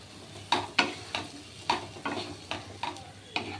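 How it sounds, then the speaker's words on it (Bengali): Spice paste frying in fish oil in a wok, with several sharp scraping stirs standing out over a steady low sizzle, fairly close and without any voices. "মশলাটাকে একটু ভেজে নিয়ে হ্যাঁ আমার তেল আর লাগবে না হ্যাঁ কারণ তেল কড়াতে আর দেখুন এই তেলেই ভাজা হবে"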